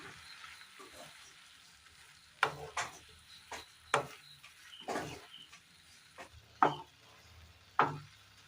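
A spoon stirs chopped boiled egg through a masala in a pan, with a soft sizzle underneath and a handful of distinct scraping knocks against the pan at uneven intervals.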